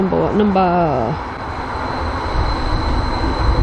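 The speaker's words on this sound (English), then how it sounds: "Now I'm just waiting for my final train of the day to Great Yarmouth." A Wherry Lines train bound for Great Yarmouth rumbles close by with a steady low roar and faint high whine, following a brief spoken voice at the start.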